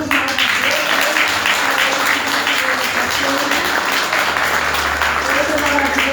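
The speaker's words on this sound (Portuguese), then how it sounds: "Vamos aplaudir Jesus." Church congregation applauding during a Brazilian worship service, steady broadband clapping throughout with some voices and low organ or keyboard tones underneath.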